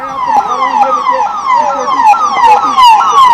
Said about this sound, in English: the ambulances have started arriving